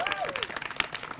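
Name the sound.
audience applause for Kelly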